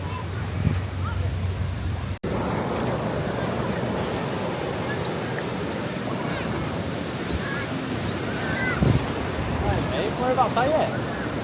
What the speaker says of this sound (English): we're heading up onto the beach now. The water still looks immaculate